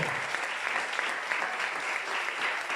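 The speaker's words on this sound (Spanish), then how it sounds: "Le damos un aplauso al Padre, al Hijo y al Espíritu Santo." A church congregation claps together during a Sunday worship service, a steady wash of applause at moderate level lasting a few seconds.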